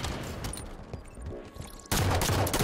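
Gunfire in a multiplayer shooter game, faint shots and clatter that give way to a loud, dense burst of firing near the end.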